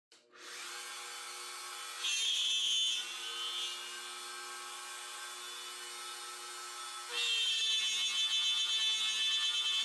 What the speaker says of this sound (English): I'll take these over to the router table and route out the oval between the two holes